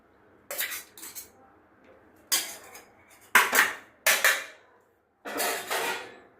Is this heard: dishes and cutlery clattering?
yes